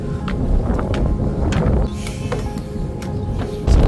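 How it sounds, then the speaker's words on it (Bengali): Strong wind at a resort in bad weather, a steady rumbling buffet of gusts on the microphone with faint intermittent higher noises, loud and continuous, with no speech. "আর কি পরিমাণ বাতাস আজকে এটা বলে সবসময় বাতাস এরকম থাকে ওয়েদার খারাপ"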